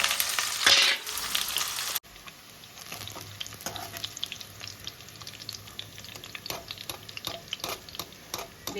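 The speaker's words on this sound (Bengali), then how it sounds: "তো এই বেরেস্তার জন্য তেল গরম করতে দিয়েছি, পেঁয়াজগুলো দিয়ে দেবো।" Sliced onions frying in hot oil for beresta, a dense close sizzle and bubbling crackle that carries on steadily after a louder burst of splashing at the start, without any talking.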